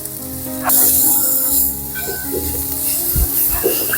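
Onions sauté in a pan with salt and turmeric, a soft sizzle and hiss with occasional clinks and stirring bumps at moderate volume, and no voices.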